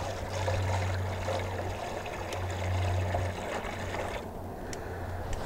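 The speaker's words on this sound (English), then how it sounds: "I'm just going to pour this into the top feeder" Sugar-water syrup mixed with Fumagillin B is poured into a beehive top feeder, giving a soft, continuous liquid trickle against a low background hum, fading slightly toward the end.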